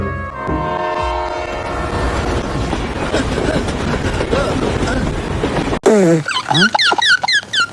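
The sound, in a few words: train passing in a film scene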